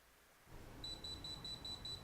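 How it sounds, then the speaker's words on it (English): A countdown timer finishing with a series of evenly spaced high electronic beeps, about seven in a row, steady and clear over a low background hum. "let's see if we can hear the timer"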